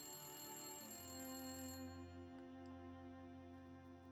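In the survival game The Long Dark, a phone rings with a soft, steady tone that holds for several seconds against a hushed indoor backdrop.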